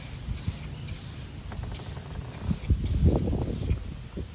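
An aerosol spray can sprays paint onto a Kia car door in a series of short, regular hissing bursts, close and fairly quiet, with some handling noise between bursts.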